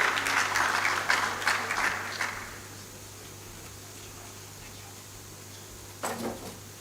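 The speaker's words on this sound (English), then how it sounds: "A round of applause for him as he makes his way up." At an East African Community high-level forum on climate change and food security, a conference audience gives a short round of applause that fades after about two seconds. The hall goes quiet, then a brief knock or shuffle follows.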